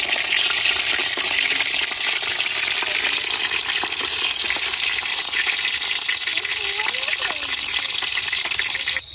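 Rui fish pieces sizzle steadily in hot oil, a dense, loud broadband hiss that runs unbroken for the whole stretch with occasional crackles and spits, a voice talking faintly underneath.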